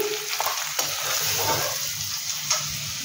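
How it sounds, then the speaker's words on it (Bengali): Onions fry with salt in a pan, giving a steady close-up sizzle broken by a few light scrapes and clinks of stirring. No voices are heard. "পেঁয়াজটা তাড়াতাড়ি তোমার নরম ভাজা হয়ে যায়"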